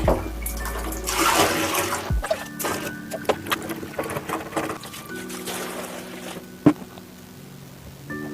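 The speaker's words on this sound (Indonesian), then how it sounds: "Tambahin lagi airnya. Ini terlalu sedikit." Water pours into a basin to soak second-hand jeans with detergent, a loud, close rushing splash at first that settles into a steadier trickle, with a sharp knock near the end.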